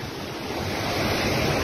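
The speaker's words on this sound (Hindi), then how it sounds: "वो पानी की लहर, वो पानी की गुंजाइश।" Floodwater on the river at Jamshoro rushes and churns with a loud, steady roar and a broad hiss of surging waves. Wind buffets the microphone through the short moment, with no voices.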